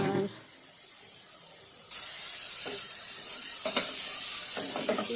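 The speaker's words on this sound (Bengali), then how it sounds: "দেখতেই পাচ্ছ ভালো করে নাড়াচাড়া করে নিচ্ছি" Curry frying in a pan is stirred and turned, a loud steady sizzle cutting in after a quiet start, with scraping stir strokes surfacing now and then.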